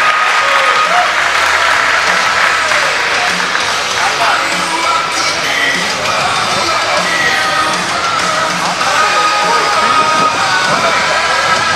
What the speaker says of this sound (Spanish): Que se escuche el aplauso para Jesús Osuna